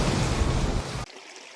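Loud, dense rush of crashing seawater from a tsunami wave, a broad roaring surge that cuts off abruptly after about a second, leaving only a faint low hiss.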